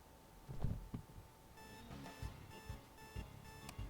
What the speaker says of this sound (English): You turn off the alarm on your phone.